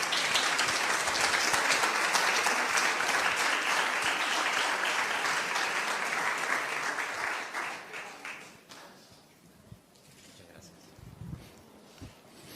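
Lively audience applause at a Bible talk, fairly close and dense, thinning into scattered claps after about eight seconds with a voice speaking over the tail.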